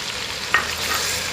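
Tomatoes fry in a pan with a steady, close sizzling hiss, broken by one brief scrape of a stirring spoon midway.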